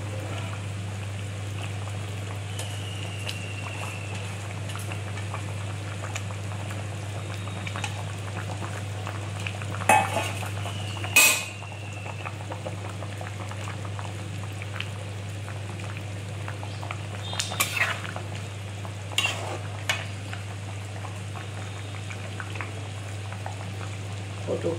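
Bhetki fish curry with cauliflower, potato and lentil dumplings bubbling steadily in a pot, a soft continuous simmering hiss under a low steady hum, with a few brief clinks near the middle.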